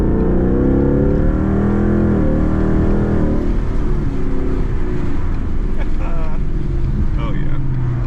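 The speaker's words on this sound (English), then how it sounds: "Focus sounding good." A straight-piped Ford Focus ST drones loudly on the road, its raw exhaust note rising and shifting as it pulls away, with brief voices over the engine.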